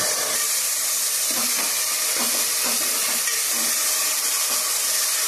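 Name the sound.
tomatoes and onions cooking in a pan for gongura chicken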